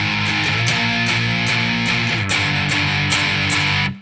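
Heavily distorted electric guitar plays the end of the second chorus of a song, dense sustained power chords with regular rhythmic accents, loud and close, then cutting off abruptly at the end.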